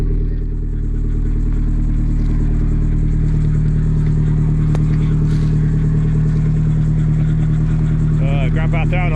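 A motorbike engine drones loud and close with a steady, heavy idle that swells slightly as it is revved, while a voice talks over it near the end.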